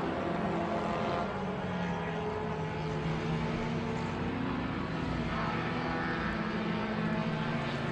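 A vintage 1955 Mercedes race car engine drones steadily and loudly throughout, a continuous roar at an SVRA Group 1 feature race at Watkins Glen, with no break or distinct passes.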